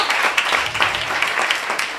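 A Miami audience at a Cuba-themed event claps for honorees, a steady broadband patter of many hands filling the room, fairly close and sustained without voices over it.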